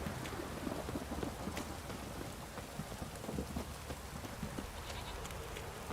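Steady rain falls continuously in The Witcher 3 video game, a dense hiss of drops with occasional sharper patters, moderately loud and unbroken.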